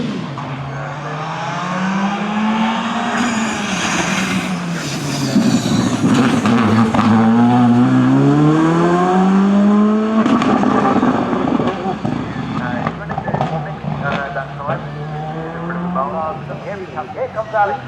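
Race cars drive a racing circuit, their engines held loud and close in a sustained roar that rises and falls with gear changes, while a commentator talks over the top.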